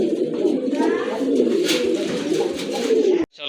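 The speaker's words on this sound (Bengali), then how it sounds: "নরে কিন্তু অনেক ভালো ডাকে, একা একাই ডাকতেছে" A male pigeon at a pigeon seller's coos on its own, close and fairly loud, in a continuous rolling throaty call that carries through nearly the whole stretch before a brief sudden cut at the end.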